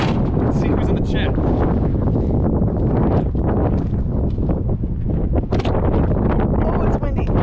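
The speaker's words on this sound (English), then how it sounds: "Oh, it's windy." Strong wind buffets a 2021 Ford F-150 Hybrid pickup truck, a steady loud roar with gusty rustling across the whole stretch, while a person talks over it.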